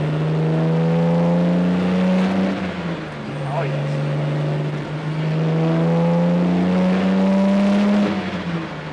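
A 1967 Austin Healey 3000 MkII sports car accelerates hard, its engine note climbing through two rising runs with a brief lift between, loud and close, as someone briefly speaks over it.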